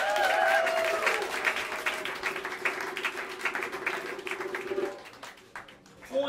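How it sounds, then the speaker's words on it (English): Audience applause fills a small New York jazz club, Smalls, a dense steady patter of many hands with a sustained tone underneath, fading near the end before a brief swell. "a wonderful, wonderful round of applause to the very,"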